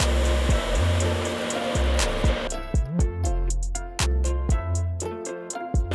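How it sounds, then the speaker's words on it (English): A laser engraver marks the Felton mix brand onto a chrome product, a steady hum and whir with short repeated clicks and buzzing pulses from the marking head, loud and close, with no talking. "the Felton mix brand is applied here with a laser engraver"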